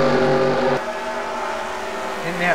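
Race cars circling Bristol's oval in a heat race amid lapped traffic, loud engine drones with a sharp drop in pitch as one passes, then a sustained steady roar and a rising note at the end.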